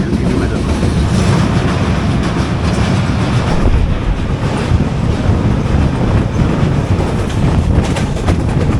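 Mandovi Express AC 3-tier coach rolling toward Thivim station on the Madgaon–Mumbai run, a continuous loud rumble with rhythmic wheel clatter heard from inside the carriage.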